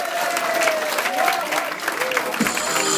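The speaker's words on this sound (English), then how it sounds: "Give yourself one more big round of applause" Wedding guests applaud during bridal party introductions at the Wachusett Country Club, a dense, steady wash of clapping from a sizable room with a faint voice and tones drifting underneath.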